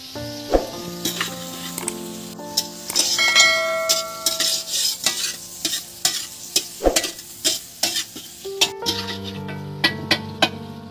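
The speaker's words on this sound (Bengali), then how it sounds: "গাজরটা দেখুন আর বিনস কড়াইটা, এটা তেলের মধ্যে ভাজা হয়ে গেছে" Carrots and beans fry in oil in a large wok, a steady sizzle broken by repeated metallic scrapes and clanks of stirring, close and fairly loud.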